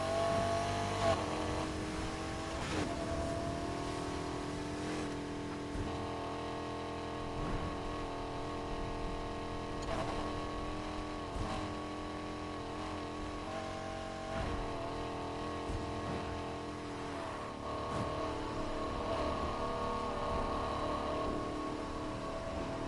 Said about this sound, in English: This car would be all-wheel drive, but it kind of feels like a rear-wheel drive car because of the drifting.